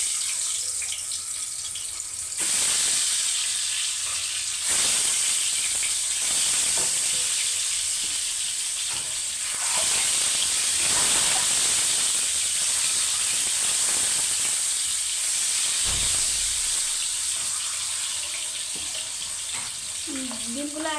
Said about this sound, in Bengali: ডিমগুলো আমি এখন বাদামি কালার করে ভেজে নিব।